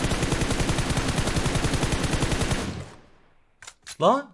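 Rapid automatic gunfire from PUBG Mobile blasts loud and continuous for about two and a half seconds, then cuts off, leaving a quiet gap before a few short bursts and a brief voice.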